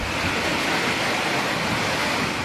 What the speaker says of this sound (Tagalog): dahil sa lakas ng hangin at matinding buhos ng ulan